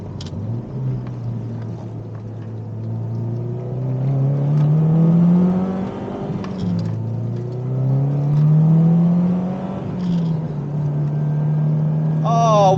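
A rare Subaru Impreza WRX STi Widetrack Spec C Type RA, with its engine revving: its note climbs and drops in repeated pulls, heard from inside while people talk over it throughout.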